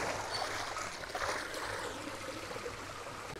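Water rushing through the newly opened sluice gates of a century-old watermill's channel, a steady broadband wash that holds close and even throughout with no voices.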